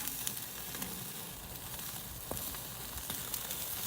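Chicken wings sizzle over a two-zone grill fire on a PK360 grill, with a steady close hiss and scattered small pops and crackles throughout.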